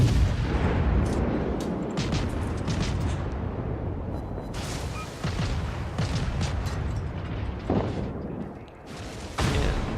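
Heavy naval gunfire in World of Warships, continuous booming salvos and shell impacts layered into a rumbling roar, loud and sustained with no talk over it.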